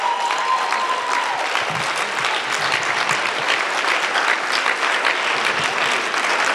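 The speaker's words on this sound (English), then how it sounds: "Can we have one more round of applause for the beautiful musical program?" An audience claps steadily and warmly after a devotional musical program, the applause dense and even throughout, with a brief tone audible near the start.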